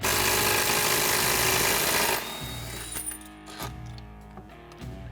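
A power tool whirs loudly for about two seconds as it removes the 15mm secondary clutch bolt on a Polaris RZR XP 1000, then stops, followed by a few quieter metallic clicks and handling noises.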